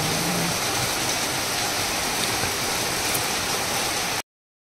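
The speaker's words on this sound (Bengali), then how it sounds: "বাবা দেখো কি বৃষ্টি হচ্ছে।" Heavy rain pouring outside a home, a dense, continuous close hiss with no pauses and no voices, stopping abruptly near the end.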